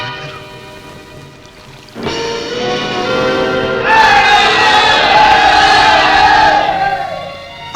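A shouting crowd draws near in a Telugu film scene set by a boat. Sustained tones start at two seconds, then a loud, dense roar of many voices swells in the middle and fades toward the end.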